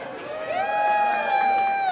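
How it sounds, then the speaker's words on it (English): A crowd cheers and whoops loudly for an artist in San Francisco, with sustained voices and shouting building over two seconds into a dense, continuous roar. "Give it a round of applause for that right there in itself."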